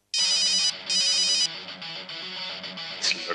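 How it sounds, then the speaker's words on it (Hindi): A phone ringtone plays loud and close in repeated electronic bursts, then carries on as a steady tone, with no one talking over it. "बार बार फोन क्यों कर रही है?"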